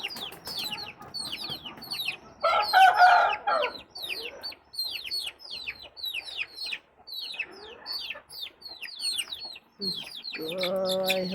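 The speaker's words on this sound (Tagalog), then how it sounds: "Ang aking mga manok." Backyard chickens clucking and a rooster crowing in the aftermath of Typhoon Haiyan, with repeated close clucks throughout, a loud crow in the early part and another crow near the end.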